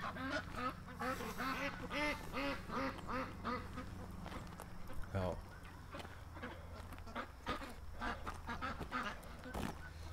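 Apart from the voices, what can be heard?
duck quacking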